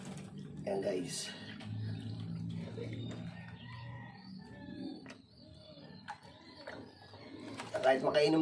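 A sick pigeon with swollen eyes and a runny nose coos softly in low, repeated murmurs while someone talks over it nearby, with a few sharper clicks and rustles.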